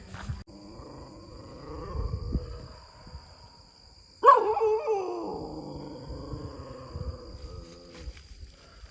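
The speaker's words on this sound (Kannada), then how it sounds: "ಬೀದಿ ನಾಯಿಗಳಿಗೆ ಚಾರ್ಲಿ ನೋಡಿದ್ರೆ ಸಾಕು ಫುಲ್ಲು ಉರ್ಕಾಬಿಡ್ತವೆ" A stray dog lets out a sudden loud growling bark midway, with rough low snarling and faint grunts before and after.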